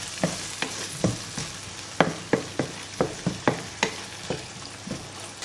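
A lentil dish with soy sauce is stirred in a sizzling pan, each spoon scrape landing as a distinct knock in a brisk, roughly regular rhythm over a low, close fry, with no voices.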